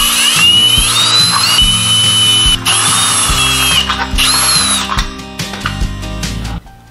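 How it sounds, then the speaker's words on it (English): A power drill bores a large hole for a soldering iron in a homemade smoke machine's housing, running with a steady whine that shifts pitch as it bites and ratchets in short bursts, close and loud, with no talking. "Let's drill the large hole for the soldering iron first."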